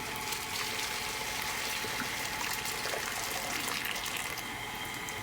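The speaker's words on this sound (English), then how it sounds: "I'm going to set it up right at the edge of my mixer and then pour my water in." Hot water pours through a large funnel into a stand mixer while brewing a yeast starter, giving a steady, faint rushing trickle that continues unbroken.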